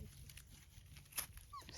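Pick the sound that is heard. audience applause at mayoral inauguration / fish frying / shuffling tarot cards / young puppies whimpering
young puppies whimpering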